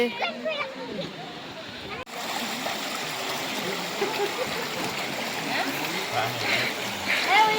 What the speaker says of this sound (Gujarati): કેવું મસ્ત પાણી જાય છે